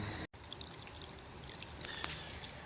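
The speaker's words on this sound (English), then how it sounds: "You can see my bucket's overflowing." Water spills over the rim of an overflowing bucket under a porch, a soft continuous trickling pour that runs steadily and fairly faint, with no voices.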